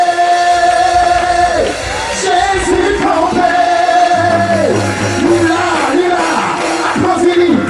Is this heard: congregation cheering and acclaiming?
yes